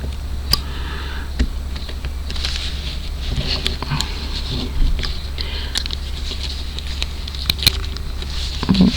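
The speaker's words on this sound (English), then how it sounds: "It's raining today." Rain patters steadily outdoors, a dense continuous hiss of drops with scattered sharper ticks and taps throughout, fairly loud and close, with no voices.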